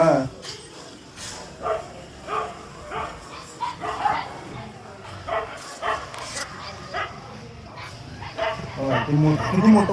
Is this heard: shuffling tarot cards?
no